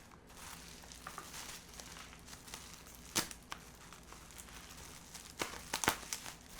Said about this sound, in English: now let's work on unwrapping this thing